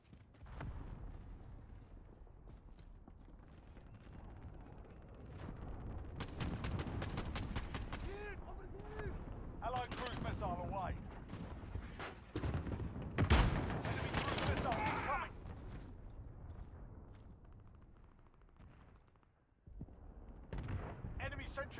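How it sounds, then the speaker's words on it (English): Cluster strike explosions in Call of Duty: Modern Warfare, a string of loud blasts and crackling gunfire rolling over about twenty seconds, with dense bursts in the middle and voices heard at times. "Allied cluster strike inbound."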